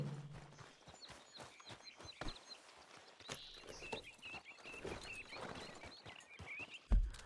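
Horse hooves clopping in Red Dead Redemption 2, a quiet run of soft, fairly even footfalls over ambient game sound.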